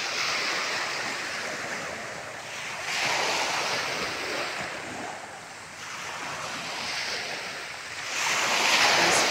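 Calm sea waves wash ashore at a seaside in Marinduque, Philippines, a steady, soft surf with gentle swells rising and falling, mixed with light wind noise.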